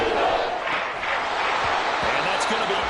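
American football stadium crowd cheering and roaring as the home side faces third and two, a loud sustained wash of voices beneath a commentator's talk.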